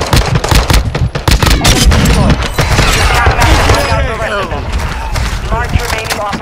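Gunfire fills a Call of Duty match: loud, dense, rapid bursts of machine-gun and rifle shots crackle almost without a break, with a voice speaking over the shooting.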